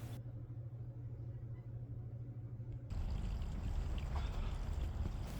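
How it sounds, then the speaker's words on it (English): Molten aluminum pours into an unsupported resin sand mold with a low, steady rumble under a mains hum, then a louder, broader hiss and roar takes over partway through and continues to the end. "Here you can see aluminum being poured into a completely unsupported resin sand mold."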